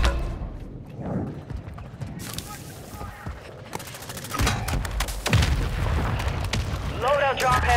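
An air strike in a video game: deep booms and heavy blasts roll in one after another, with game voice chatter running underneath.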